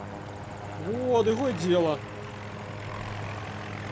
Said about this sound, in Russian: Ну, дайте мне вертушку попробую.